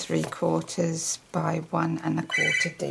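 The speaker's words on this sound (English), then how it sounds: "That was the phone," A telephone rings twice in a short burst while a woman demonstrating a gift box craft keeps talking over it indoors.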